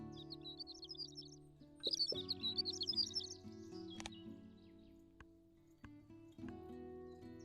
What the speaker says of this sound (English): it's kind of nice to just look at birds and listen to birds